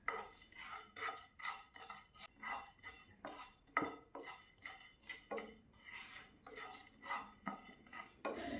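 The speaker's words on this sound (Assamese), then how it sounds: "এতিয়া গেছৰ কম জুইত 1 মিনিটমান সময়ৰ কাৰণে ভাজি ল'ম" Coriander seeds and dried chillies are stirred as they dry-roast in a pan over low gas for a jujube pickle, giving steady scraping and clinking of utensil on metal in soft repeated strokes, alone and fairly quiet.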